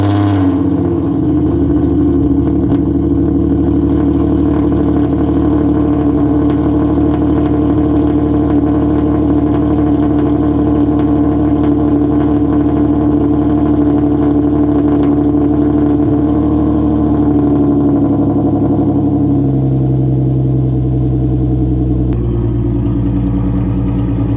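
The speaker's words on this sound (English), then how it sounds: "Don't think I forgot about the cold start though." Genesis Coupe 3.8 with a Solo Performance exhaust on a cold start, a loud steady engine drone holding high idle for about twenty seconds, then dropping to a lower note near the end, with no talking.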